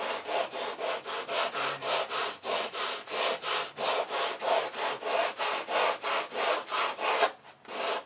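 Sandpaper is rubbed briskly over a balsa wood wingtip in fast, steady back-and-forth strokes, about two per second, close and loud with no other sounds, ending in a brief pause and a last scrape.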